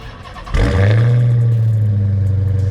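A 2020 Dodge Charger SRT Hellcat Daytona Widebody fires up by remote start, its engine catching with a loud burst and then settling into a deep, rumbling idle held close by.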